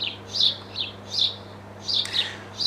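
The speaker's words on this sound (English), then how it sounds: "you can hear the birds outside" Small birds chirp in short bright bursts at a relaxed, uneven pace, moderately distant outdoors over a low steady hum.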